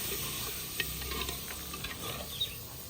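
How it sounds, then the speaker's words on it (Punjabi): Spiced masala with salt and chilli roasting in a pan, giving a steady low sizzle with light scraping and stirring clicks scattered throughout, no voices. "ਮਸਾਲੇ ਨੂੰ ਨਾ ਚੰਗੀ ਤਰ੍ਹਾਂ ਭੁੰਨਾਂਗੀ"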